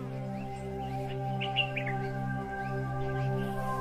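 Water birds calling at Rawal Lake, a wildlife refuge by Margalla Hills National Park near Islamabad, Pakistan, with a few brief chirps and tweets in the middle over a steady tonal background hum.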